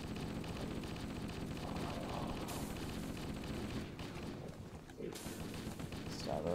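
Heavy gunfire rolls on in dense, continuous bursts, loud and close. It dips briefly near the end before surging again, with voices mixed in.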